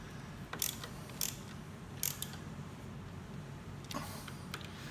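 Torque wrench tightening handlebar bolts on a BMW K1600GTL motorcycle, several quick ratcheting clicks in short clusters, close and fairly faint over a steady room hum, with no talk.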